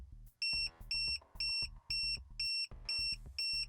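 A tire pressure monitoring system alarm beeps in a steady repeating pattern, about seven bright, high-pitched beeps with short gaps, loud and alone.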